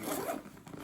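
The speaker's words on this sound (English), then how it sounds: "2 YKK zippers on the side. Opens up." A YKK zipper slides open along the side of a survival kit grab bag, a close, brisk rasping pull lasting under a second with no talk over it.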